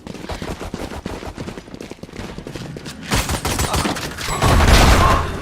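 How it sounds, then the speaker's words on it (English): Rapid gunfire bursts from the video game Valorant, dense rattling shots building to a louder, heavier volley near the end with no talk over it. "Good shot from Reyna"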